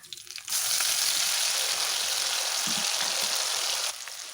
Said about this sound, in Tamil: நான் வடசட்டியில் எண்ணெய் ஊற்றிட்டு கொஞ்சம் சோம்பு சோம்பு போட்டு தாளிச்சதுக்கப்புறமேலு இஞ்சி பூண்டு